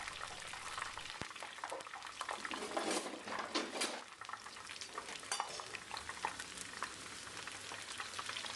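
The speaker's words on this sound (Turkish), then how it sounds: "Yüksek ateşte şu anda kızartıyorum." Steady crackling sizzle of zucchini frying in hot oil over high heat, with occasional scrapes and clinks of a utensil stirring the pan.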